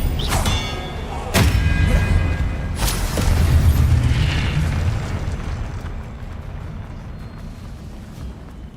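Loud booming spell explosions and bursts from the Hogwarts Legacy video game, several heavy blasts in quick succession early on, then a rumbling decay that fades away.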